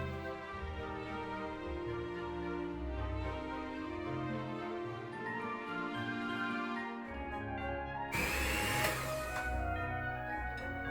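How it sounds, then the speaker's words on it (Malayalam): A sugar mixture for a chocolate Yule log cake is whisked to stiff peaks with a steady, droning motor whine that holds for several seconds, then shifts to a harsher, brighter rattle near the end, with no speech. "ഇത് വിസ്ക് ചെയ്ത് ഒരു സ്റ്റിഫ് പീക്സ് ആക്കിയെടുക്കാം"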